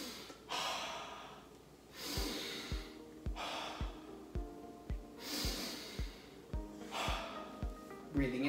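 Fast, forceful warm-up breathing before a mobility and stretch routine: a quick run of sharp, regular breaths, roughly two per second, each with a broad rushing noise and a thump, close and loud with no talk.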